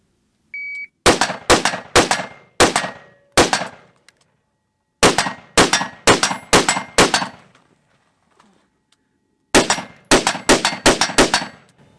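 Pistol shots fired at targets in a timed tactical shooting drill, three quick strings of five or six loud, close cracks each, some ringing like steel, with pauses between strings and a timer beep at the start.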